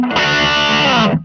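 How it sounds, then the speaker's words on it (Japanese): A Fender Meteora electric guitar plays one loud, sustained strummed chord with the tone knob turned down, giving a warm, naturally overdriven distortion. The chord rings for about a second and then cuts off. "トーンを下げれば、ナチュラルな歪みになりますよね"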